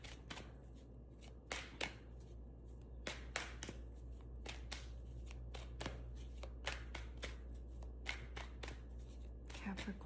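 Tarot cards are shuffled by hand to draw a card, giving a steady string of crisp riffles and soft slaps over a low constant hum, close by and fairly quiet.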